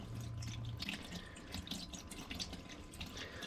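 Thin, gas-diluted engine oil draining from a Bolens riding mower engine, a steady close trickling and splashing stream like a running tap, continuous throughout with no voices.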